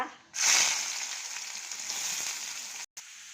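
Mustard seeds, dried red chilli and onion hit hot oil in a pan with a sudden loud sizzle that settles into a steady hiss, close up, with no talking.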